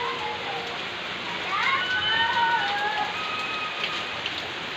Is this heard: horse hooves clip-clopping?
no